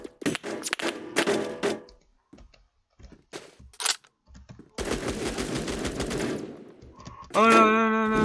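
Gunfire in the online shooter game Phantom Forces, with rapid automatic bursts and single shots in loud, close clusters, including one long sustained stream of fire, while a player's voice briefly breaks in between.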